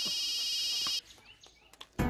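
A phone rings with a steady electronic tone for about a second, then cuts off, leaving faint clicks and rustles before a thump at the end; fairly quiet overall.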